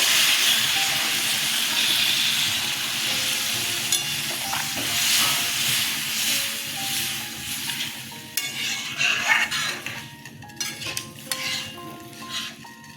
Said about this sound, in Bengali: আমি এবার জল দিয়ে দিচ্ছি কষানো হয়ে গেছে আর একটু জল দিয়ে দেবো